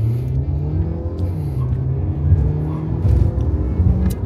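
A new car accelerates in sport mode, its engine rumbling low and close from inside the cabin, the drone rising in pitch as it pulls and then swelling again, with no talk over it.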